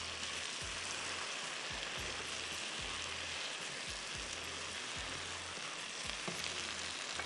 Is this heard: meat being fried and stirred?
yes